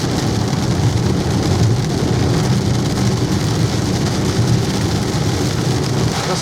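Heavy rain drums hard and steadily on a BYD Atto 3 driving through the Cromwell Gorge, a loud, dense, continuous wash with road rumble underneath and no talking.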